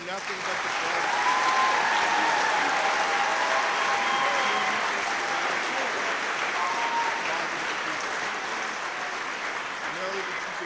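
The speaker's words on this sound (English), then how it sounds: "let's give our seniors one final round of applause" Sustained applause from a crowd honoring seniors at a 2024 graduation ceremony held by a technology center, steady dense clapping that fills the whole stretch at a loud, even level.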